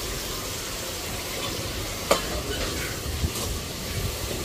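Small eggplant pieces fry in hot oil in a pan, giving a steady low sizzle with a couple of brief clinks or stirs; no voices are heard.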